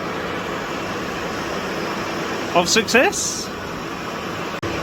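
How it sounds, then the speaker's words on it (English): A steady, loud whooshing hum of a Kawasaki GPZ900R radiator fan runs throughout, with a brief spoken phrase partway through. "The radiator fan just kicked in."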